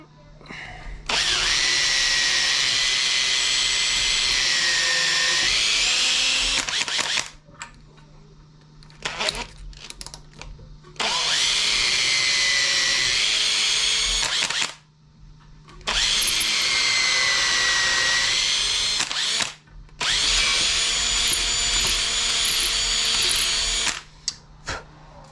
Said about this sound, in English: Definitely want to pre-drill hardwood because